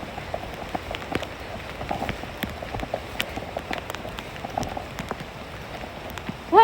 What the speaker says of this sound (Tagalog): Lumabas na naman yung ulan. Lakas ng tubig na oh.